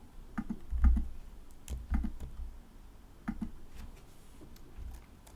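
Keys clack on a computer keyboard as a file name is typed, a few short bursts of close, moderately quiet taps separated by brief pauses.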